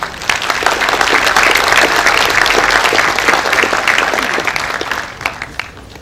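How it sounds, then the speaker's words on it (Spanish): A crowd gives warm, sustained applause at an engineers' council graduation ceremony in Lima, a dense, loud clapping that holds steady for several seconds before thinning out. "Lo recibimos con un caluroso aplauso."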